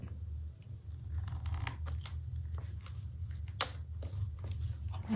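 Scissors trim paper for a journal spread, giving a series of quiet, crisp snips at irregular intervals over a low background hum, close up and with no speech.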